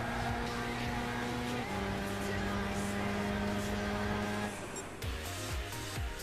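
Engine of a racing car in Gran Turismo 6 on PlayStation 3, a loud, steady drone that steps up through gear changes as it accelerates hard, then dips and wavers near the end.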